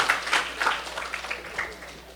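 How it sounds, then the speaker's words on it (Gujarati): Audience applause during a Gujarati religious discourse, a fairly soft scatter of claps that blends with a faint voice underneath. "એક વખત તાળીઓથી વધારે"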